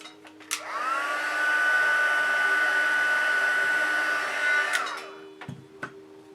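A heat tool blows hot air to heat set, producing a steady whirring blow with a high whine that rises at switch-on, holds for about four seconds, then dies away, bracketed by small clicks.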